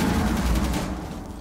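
Rapid gunfire in the video game Rainbow Six Siege, a dense burst of automatic shots crackling close and loud before tapering off.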